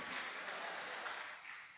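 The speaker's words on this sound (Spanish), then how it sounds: "Dele fuerte el aplauso a Cristo Jesús." A church congregation applauds, a dense, even wash of many hands clapping heard at a moderate distance through a short stretch.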